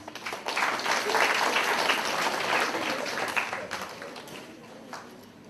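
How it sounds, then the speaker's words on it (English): Audience at a sixth-grade school academic assembly breaks into steady applause, a dense wash of clapping lasting about five seconds that fades slightly toward the end. "Give her a round of applause."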